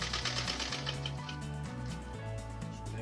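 A sewing machine double stitches the top handle of a backpack, its motor running close and steady with a rapid, even needle rhythm for the whole stretch.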